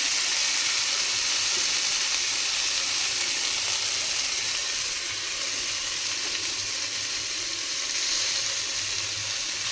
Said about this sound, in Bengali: সর্ষে বাটাটা দিয়ে 20 থেকে 30 সেকেন্ড মতো নাড়াচাড়া করে নেব